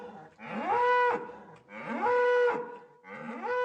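A bull moos on a cattle farm in three long, loud, close calls separated by short pauses, the last cut off, with no talk.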